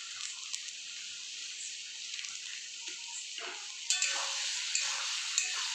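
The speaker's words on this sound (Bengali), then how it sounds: "ভালো করে মিক্স করে নেব" Spices being stirred into palak paneer in a pan, with soft scraping strokes over a steady sizzle that grows louder partway through; no talking.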